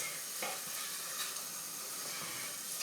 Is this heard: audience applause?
no